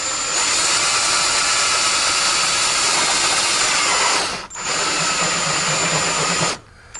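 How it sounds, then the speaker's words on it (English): A power drill with a spade bit whines loudly and steadily as it bores through wood, with a brief dip midway and a stop near the end. "wood drill, spade drill."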